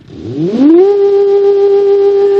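A Refokuz JP01 sports car engine in a video game revs up sharply from low to a high, sustained tone, loud and close, holding steady once it peaks.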